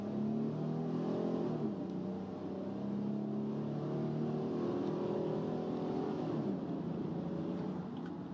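A fire truck driven in a video game gives a steady engine drone with rising and falling revs, moderately loud and alone, with no talk over it.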